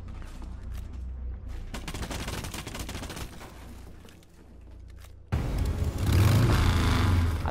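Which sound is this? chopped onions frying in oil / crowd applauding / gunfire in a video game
gunfire in a video game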